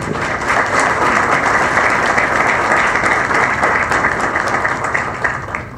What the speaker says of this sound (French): le professeur Wilson Lalo, que je vous demande d'applaudir.